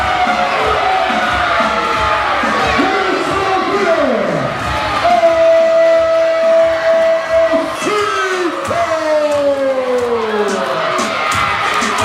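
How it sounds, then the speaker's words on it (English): A crowd at a Warriors of Wrestling 'Kings of Queens' show in Breezy Point, Queens, cheers loudly and continuously. Whoops, yells and drawn-out shouts rise above the roar. "The crowd liked this outcome."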